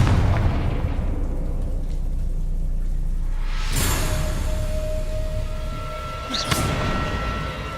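A Confringo explosion spell detonates in Hogwarts Legacy, a rumbling blast with a sharp burst and ringing tail, followed by a second smaller pop, loud and close with no talk.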